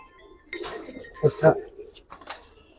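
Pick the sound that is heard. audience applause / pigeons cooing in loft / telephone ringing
pigeons cooing in loft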